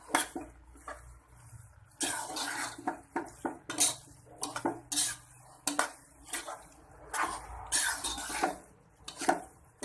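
Chicken pasta with vegetables being stirred in a pan, a spoon scraping and knocking against the metal in repeated irregular strokes, close and fairly loud, with a cough breaking in partway.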